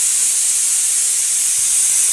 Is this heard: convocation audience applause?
no